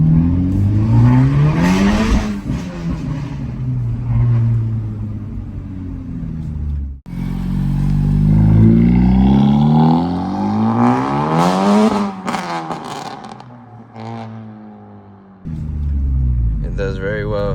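2025 Honda Civic Type R FL5 with upgrades, heard from inside during acceleration pulls: the engine rises repeatedly in pitch through the gears, with brief drops between shifts and a loud, close, continuous drone.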